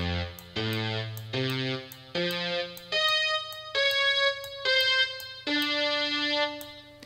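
A mono guitar sample plays as a keyboard voice on a Medeli AKX10, plucked as a rising run of single sustained notes, about eight in a steady rhythm, clear and close with no voices.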